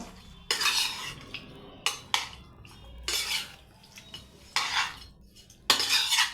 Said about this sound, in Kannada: ಈಗ ಇದನ್ನು ಚೆನ್ನಾಗಿ ಮಿಕ್ಸ್ ಮಾಡಿಕೊಳ್ಬೇಕು